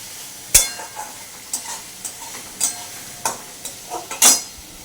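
Prawns and spices with bay leaf being stirred in a frying pan, a soft sizzle under repeated sharp scraping strikes of a spoon against the pan, irregular and close, with no voices.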